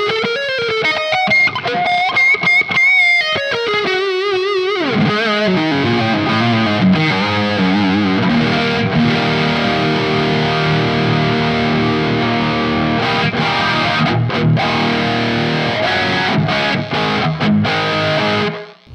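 Latitude NW 1915 LP-style electric guitar on its neck pickup with a distorted tone, playing a loud sustained riff with bends and held chords that ring out alone before cutting off.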